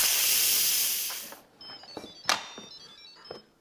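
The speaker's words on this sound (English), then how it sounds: "Now it's time to switch it to vent. Be very careful because the steam is really hot." Pressure cooker full of lentils being switched to vent: hot steam rushes out in a loud, steady hiss for about a second and a half, then cuts off, leaving faint clicks and knocks.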